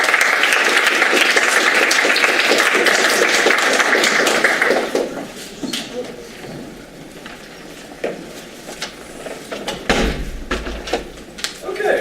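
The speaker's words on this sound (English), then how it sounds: "Let's give him a round of applause." An audience at an evening performance event breaks into loud, dense applause that holds for several seconds, then thins into scattered claps with faint background murmur.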